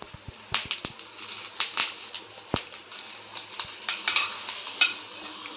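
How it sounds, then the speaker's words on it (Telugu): Hot tempering of curry leaves and asafoetida goes into brinjal and tomato chutney, a faint spatter of crackles and sizzles with sharp spoon clicks and stirring strokes up close. "ఇప్పుడు స్టవ్ ఆఫ్ చేసుకొని పచ్చడిలో వేసుకుందాం"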